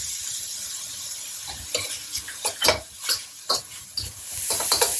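Onions and carrots fry in a pan with a steady sizzle while a spatula scrapes and clinks against the metal in irregular stirring strokes, close and prominent, with no talking.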